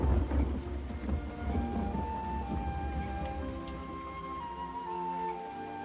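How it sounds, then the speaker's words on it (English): Heavy rain falls steadily in a dense, even hiss, with a low rumble of thunder underneath that fades over the stretch, and nobody speaks. "It has been raining solidly for a week."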